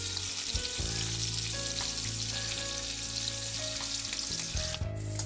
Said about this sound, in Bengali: আবার কতগুলো ভাজা হচ্ছে।